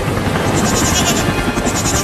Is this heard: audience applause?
no